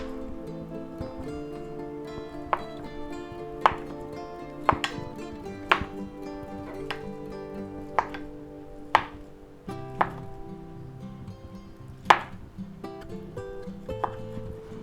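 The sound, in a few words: chopping ingredients for stuffed artichoke bottoms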